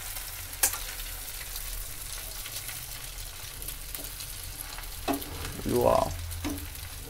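An egg frying in a pan at home gives a steady close sizzle throughout, with a few brief clatters and a short voice exclaiming near the end.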